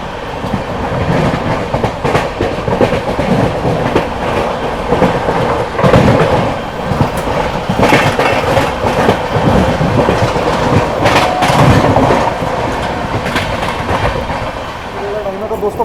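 The Muzaffarpur–Anand Vihar Sapt Kranti Superfast Express rushes past at a crossing, a loud continuous rumble with rhythmic clickety-clack of wheels over rail joints from start to finish.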